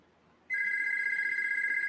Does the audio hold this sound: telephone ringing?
yes